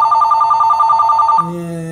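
An office telephone rings with a loud, close electronic warbling trill that pulses rapidly for over a second, then cuts to a steady, lower sustained tone to the end.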